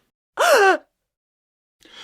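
A single short, sharp vocal gasp, loud and close, followed by silence and then the start of a voice.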